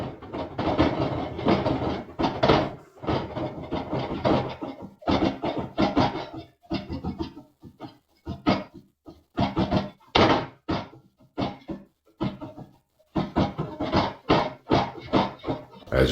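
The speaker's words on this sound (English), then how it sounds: "And here's some footage from when the attic door was rattling." An attic door rattles and thumps in loud, repeated knocking bursts with short gaps, sounding close and harsh as if picked up by a security camera microphone, with no voices.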